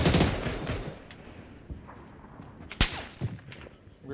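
Gunfire in the video game PUBG: a dense burst of shots at the start, then scattered single sharp cracks and a loud crisp report near the end, moderately close over a low background.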